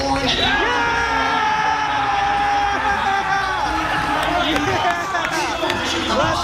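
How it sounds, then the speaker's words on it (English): Crowd at a Las Vegas Zombies speedrun event cheering for a runner, a loud, continuous wall of whoops and shouting with excited voices talking over it. "Everyone's cheering for Greg."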